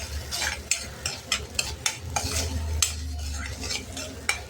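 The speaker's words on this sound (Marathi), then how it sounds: "भगर अशी छान तुपावर परतून घ्यायची" Barnyard millet (bhagar) roasting in ghee in a pan, stirred with a utensil: repeated scraping strokes at an uneven rhythm over a soft, steady sizzle, close and fairly quiet, with no talking.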